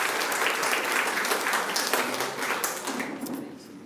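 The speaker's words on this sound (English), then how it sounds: "So we can have a round of applause for our next individuals coming up." A crowd at a grand-final quiz challenge event claps steadily in a dense, sustained wash of applause that fades slightly toward the end, with no clear talk over it.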